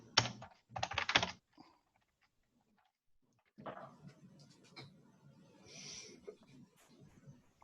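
Fast typing on a computer keyboard during a coding session, with two dense bursts of rapid key clicks, a pause, then a longer stretch of quieter, scattered tapping.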